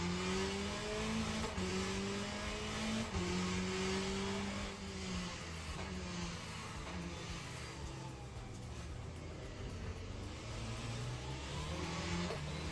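A race car engine in the Le Mans Ultimate racing video game drones steadily and climbs in pitch through repeated gear changes. Each shift drops the tone before it rises again, at a constant moderate loudness with no talking.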